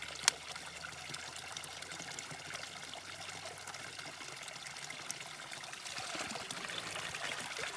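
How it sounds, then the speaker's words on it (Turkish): Ice-cold water pours steadily into containers being filled at a village water source, a continuous close trickling stream with a single sharp knock near the start and the flow swelling slightly toward the end. "suyumuzu doldurmaya geliyoruz. Su gerçekten buz gibi."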